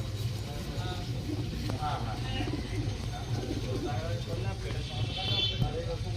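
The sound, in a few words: pigeons cooing at a pigeon market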